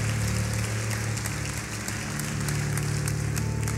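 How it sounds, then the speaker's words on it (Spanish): Church congregation applauding during a service, a busy spatter of claps laid over a loud steady low hum that continues throughout. "¿Cuántos le dan un fuerte aplauso al Señor por esto maravilloso?"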